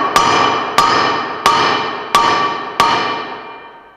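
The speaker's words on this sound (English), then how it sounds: "I put just a bolt in there with no washer. Give it a couple of taps and see what happens." Five evenly spaced, loud metallic hammer blows strike a bolt to drive out a Hustler mower spindle bearing, each crack ringing and fading before the next.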